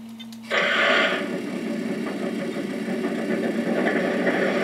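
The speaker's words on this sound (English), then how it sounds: "So you got the sounds of the diesel starting up." A Legacy-controlled model train diesel locomotive fires up: a quiet hum, then an abrupt louder start into a steady rumbling idle with a higher whine layered over it, continuous and close.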